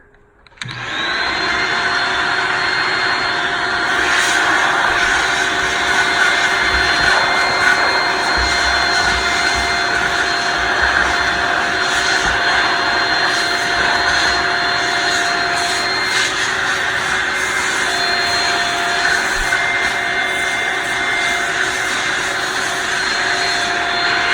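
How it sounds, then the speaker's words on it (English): A loud, steady vacuum cleaner drone with a high whine, running continuously after a brief start, with no talking, used alongside canned air while fixing a screaming bathroom exhaust fan. "But the canned air I use first with the vacuum cleaner."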